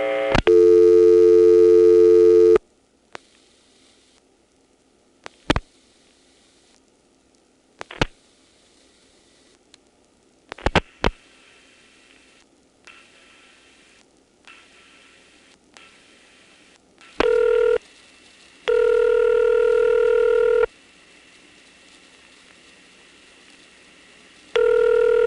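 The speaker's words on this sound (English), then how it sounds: "You'll notice the typical ESC ring cadence, where the first ring is out of sync with all the rest." A telephone line on an XY step-by-step exchange rings with an ESC cadence, with a first tone burst followed after a long gap of faint clicks and line noise by later ring tones, the first ring out of step with the rest.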